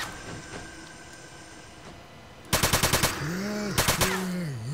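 Two short bursts of rapid automatic gunfire from S.T.A.L.K.E.R.: Shadow of Chernobyl, about five loud shots each, ring out over a low ambient hum, followed by wavering tonal whines.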